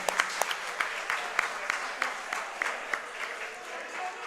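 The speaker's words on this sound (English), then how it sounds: "Round of applause for both teams." Audience applause for both teams after an esports match at a Big Dapple 2 top 8 set, a fairly faint, steady patter of clapping with sharp individual claps standing out throughout.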